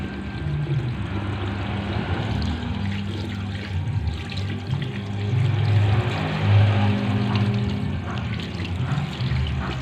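Clean water runs steadily from a tap as hands are rinsed beneath it, a continuous close splashing with slight swells in flow and no talking.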